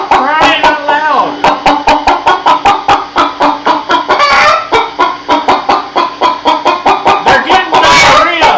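Chickens cluck and cry out loudly and continuously near at hand, a dense flock squawking in rapid, overlapping bursts with a few louder shrieks rising above the clamor.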